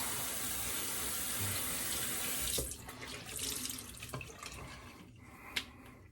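A tap runs in a bathroom sink for a post-shave rinse, a steady close rush of water for a few seconds before it gives way to softer splashes and drips.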